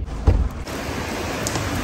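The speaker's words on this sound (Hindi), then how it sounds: "बहुत तेज बारिश और हवा" Heavy rain pours down with strong wind, a dense, steady roar close around the microphone, with a brief louder gust or thump near the start and no talking.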